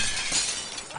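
Glass shatters in the Happy Wheels video game, a bright burst of breaking and tinkling shards lasting about a second, loud and close with no talking.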